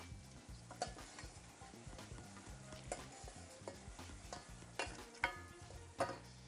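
Sobrasada sizzles quietly as it toasts in a pan while a spatula stirs and scrapes, with occasional soft clinks and no talking.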